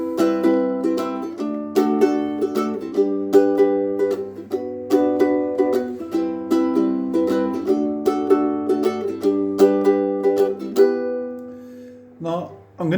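A ukulele plays a song in rhythmic strummed chords in a steady pattern, clear and close, for about twelve seconds before a brief pause and a last strum.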